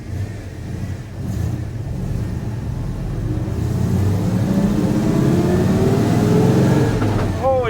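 A V8 car's engine rumbles steadily while driving, the low drone rising slightly as it accelerates toward the end, with a voice talking faintly over it.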